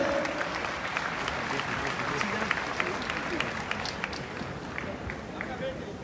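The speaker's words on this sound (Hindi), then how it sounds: "एक बार जोरदार तालियों के" An indoor stadium crowd at a Jain community event greets the state chief minister with loud, dense, continuous clapping, while a voice speaks over the applause throughout.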